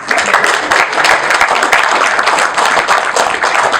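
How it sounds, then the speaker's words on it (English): An audience welcomes panel speakers at an event with lively, dense clapping from many people, loud and close, sustained without a break through the whole stretch. "Big round of applause,"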